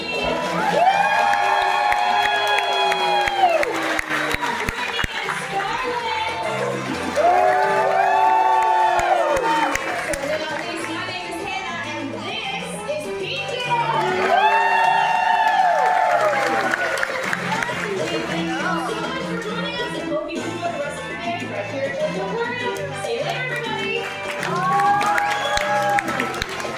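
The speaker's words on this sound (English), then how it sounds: "I want to hear one more huge round of applause for Trisha and" An audience at a sea lion show in the Georgia Aquarium's Truist Sea Lion Studios applauds and cheers in a steady wash of clapping and whoops, with an announcer's amplified voice speaking over it.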